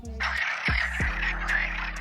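Frogs croak close by on Madeira in a few short rasping bursts over a steady low background hum.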